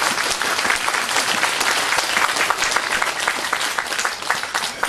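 A large audience at a year-end political gathering breaks into sustained, dense applause, loud and steady throughout, with no voice standing out above the clapping.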